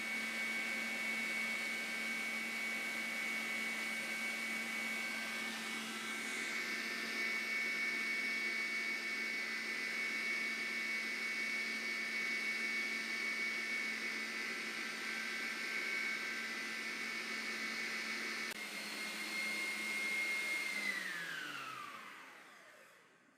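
An electric mixer beats cake batter with milk and margarine, a loud steady whirring drone held for about twenty seconds before winding down as the motor slows and stops.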